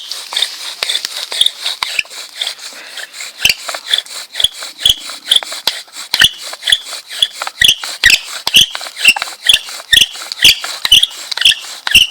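Willow wood squeaks rhythmically under friction during fire making by hand, a bright repeated chirping with sharp rubbing strokes, close and fairly loud throughout.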